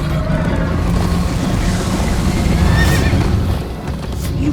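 A horse whinnies and gallops in Minecraft: Story Mode, loud close neighing over rumbling hoofbeats and rushing noise during a chase.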